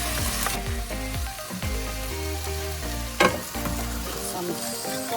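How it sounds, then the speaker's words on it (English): Shrimp sizzling in a hot pan for a Filipino dish, a close, dense crackle with clattering utensil scrapes and one sharp knock partway through; no voices. "Then add the shrimp."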